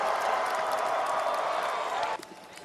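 Stadium crowd at a UC Davis versus Montana State college football game during a UC Davis timeout: a sustained, dense roar of many voices that holds steady, then drops off sharply near the end.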